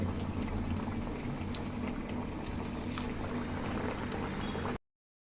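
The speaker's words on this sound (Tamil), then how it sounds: "இப்போ வந்து பொட்டேட்டோ டீப் ஃப்ரை செஞ்சுக்கலாங்க" Sliced potatoes deep frying in hot oil, a steady close-up bubbling and crackle running evenly for about five seconds before cutting off abruptly.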